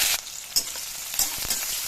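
Onions with bay leaves, dried red chillies, cardamom and cinnamon fry in hot oil in a kadai: a steady, close hiss and crackle, with a few soft stirring knocks and no talk.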